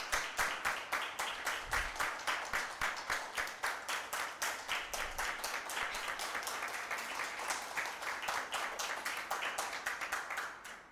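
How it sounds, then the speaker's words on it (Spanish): Steady audience applause at a heritage magazine presentation event: dense, rhythmic hand clapping that stays loud and even for the whole stretch, with no voices over it. "pido un aplauso nuevamente para ellas."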